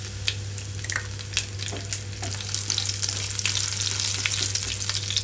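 Garlic cloves and seasoning seeds with dried red chillies frying in hot oil in a pan, giving a continuous close crackling sizzle with sharp pops and spatters.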